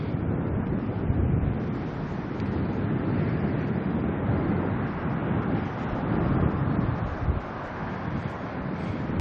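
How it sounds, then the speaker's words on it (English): Steady wind gusting at Auckland Airport, a loud continuous roar buffeting the microphone throughout with no letup. "we get up to Auckland and the wind starts up"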